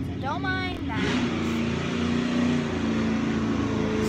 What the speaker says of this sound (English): As you can hear, there's a hot rod coming down the road